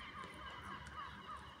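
Gulls call from the open air, thin repeated cries recurring every few tenths of a second over a steady bed of wind and ambient noise, faint and somewhat distant.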